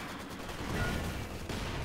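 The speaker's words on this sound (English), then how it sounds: "There goes some more mortars, way too far up." Distant mortar fire in a war video game, a dense, continuous rumble of muffled blasts and gunfire that holds at a steady level throughout, with no voices.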